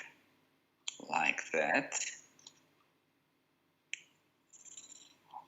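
Adhesive tape is pulled and pressed onto material to form a cone shape, giving short crackly tearing and sticking bursts, quiet and close, with brief speech.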